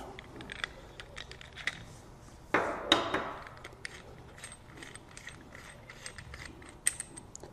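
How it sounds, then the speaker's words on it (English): A tool slides off the lower crank of an AM10 being converted, with small metallic clicks and rattles, one sharper clunk partway through, close and quiet, with no voices. "So now we're going to pull our tool back off."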